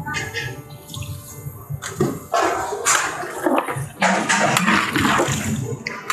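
Water is poured into a pot of vegetables for Gujarati undhiyu, arriving in loud, close splashing gushes that come and go in several bursts.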